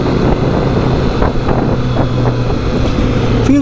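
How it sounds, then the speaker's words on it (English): A 2020 Triumph Street Triple RS inline-three motorcycle engine runs steadily and fairly loud, a continuous throbbing drone with wind noise, ending in a brief rising tone. "Oh wow, the sweet sound of the inline 3."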